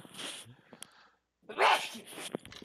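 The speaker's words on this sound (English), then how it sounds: "Because yes, my sneeze is weird." A single sharp human sneeze bursts out close and loud after a moment of silence, with softer breathy noises before and after it.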